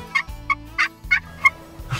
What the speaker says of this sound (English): She used the THP crystal call to get him to gobble